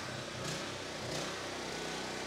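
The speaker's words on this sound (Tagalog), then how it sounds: "Pakita natin kung gaano kalakas itong ating generator na ito." A welding generator with a built-in welding machine runs steadily and loudly up close, its engine drone continuous across the whole stretch with slight surges in pitch.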